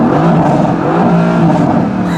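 A Mercedes-AMG GT S engine revs in neutral, a loud, close, throaty drone whose pitch swells and eases over a couple of seconds while a voice talks over it.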